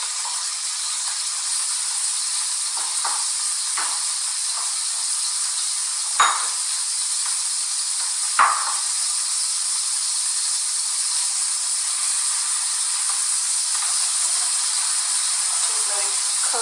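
Saltfish for a Jamaican ackee and saltfish dish cooking in a pan over medium heat, giving a steady, loud hiss and sizzle throughout, broken by two sharp utensil knocks and a few faint clinks.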